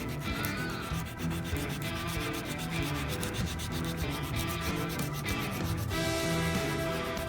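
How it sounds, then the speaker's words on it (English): Sandpaper scrubs hard across a badly scuffed shoe in quick repeated strokes. The rasping is close, steady and loud, and it sounds alone with no voices. "I'm going to turn it to get some fresh sandpaper."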